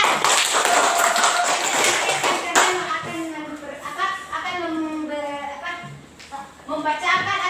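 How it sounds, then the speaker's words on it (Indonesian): Children in a classroom clap hands, a dense burst of applause at the start that fades within a few seconds, followed by someone speaking clearly. "tepuk tangan dulu"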